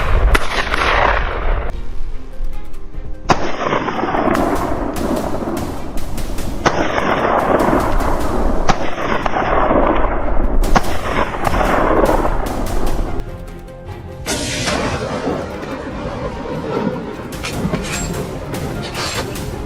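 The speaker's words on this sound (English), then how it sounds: "our team opened fire. Bullets thundered through the jungle air" Rapid volley of loud gunshots during a wild boar hunt in jungle, sharp cracks repeating in bursts over roughly thirteen seconds before a dense, slightly quieter clatter of continued firing.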